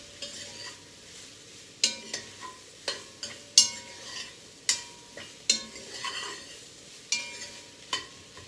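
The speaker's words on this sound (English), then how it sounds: "And I'm gonna go ahead and give that a stir." Chopped bell pepper and zucchini stirred in a pot for white bean chili: a soft sizzle under a string of crisp spoon clacks and scrapes on the pot, close by, with no voices.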